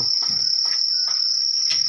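Large crickets kept on a cricket farm chirp in a steady, shrill, continuous drone. Close and loud, with soft rustling and knocks underneath.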